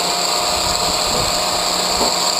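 An angle grinder with its guard fitted runs steadily at high speed in a welding shop while a firepit is being built, a constant loud whine with no talk.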